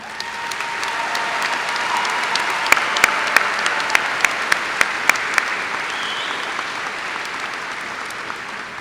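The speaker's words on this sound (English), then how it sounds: "Please give them a round of applause." An audience at a high school graduation ceremony applauds school musicians, with steady broad clapping and a few sharper nearby claps, sustained throughout without any talk.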